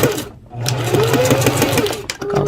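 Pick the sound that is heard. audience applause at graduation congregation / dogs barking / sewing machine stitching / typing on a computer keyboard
sewing machine stitching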